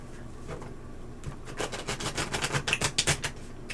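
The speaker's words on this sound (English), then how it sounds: "One more shuffle." Rapid riffling clatter of playing cards being shuffled, a quick burst of crisp flicks building in the middle, close by with no talking.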